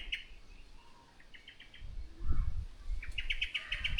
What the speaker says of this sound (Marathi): इकडे चिचोरी ओरडते, समोर दिसले का